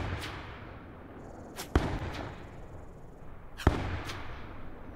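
Rifle bullets crack past at long range in the Call of Duty Blackout video game, two sharp distinct cracks about two seconds apart over a low ambient rumble.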